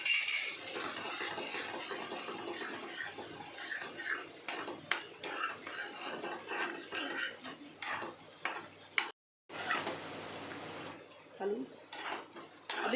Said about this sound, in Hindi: अब इसे मीडियम फ्लेम पे 2 मिनट भूनिए